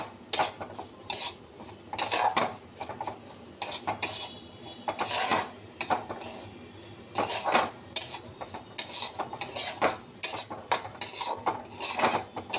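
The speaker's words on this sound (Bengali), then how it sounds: "তো এটা একটু ভাজা ভাজা হোক। তো এরকম করে নাড়িয়ে দেব।" Spoon scraping and stirring a cup of semolina dry-roasting in a pan for modak, with repeated clinking and scraping strokes in an irregular rhythm, close and fairly loud, without talk.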